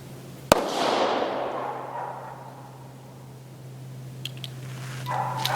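A single sharp gunshot from an old American Firearms Mfg Co .25 ACP pistol cracks once and rings out into a fading echo outdoors. Faint background noise follows, with no further shots.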